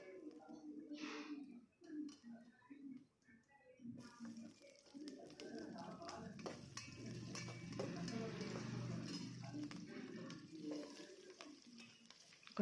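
Green chilli and onion pieces drop into hot oil in a pan, starting a steady broadband sizzle and frying hiss that swells from faint to moderately loud and continues unbroken, with a few soft stirring knocks underneath.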